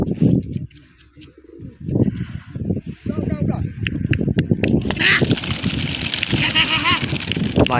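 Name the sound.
pigeons cooing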